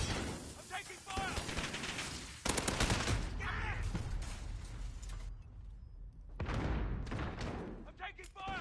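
Sustained bursts of automatic gunfire in Call of Duty: Modern Warfare, loud and close, with a short lull before the shooting resumes, while voices talk over the battle.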